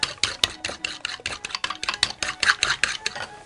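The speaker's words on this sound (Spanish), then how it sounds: "Estoy batiendo dos huevos" Two eggs whisked briskly in a bowl for a vegetable tortilla, giving a steady, close, rapid scraping and clinking rhythm of utensil against the bowl, with no voices.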